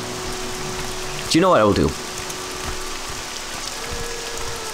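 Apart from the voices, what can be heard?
rain in the video game Morrowind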